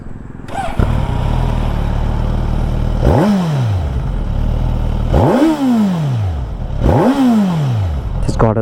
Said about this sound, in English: it's got a really throaty exhaust sound